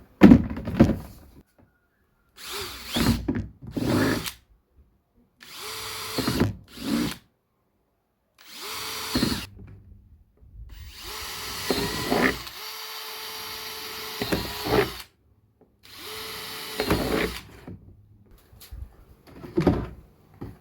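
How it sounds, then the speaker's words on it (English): A power drill bores holes through the plastic of worm farm bins in a series of about eight short, loud bursts with quiet gaps between them, close up, and no talking. "we're going to drill some holes across the tops here and the bottoms"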